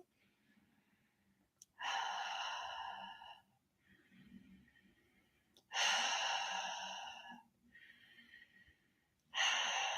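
Slow, deep breaths drawn close to the ear: long airy inhales and exhales in an unhurried rhythm, with quiet pauses between.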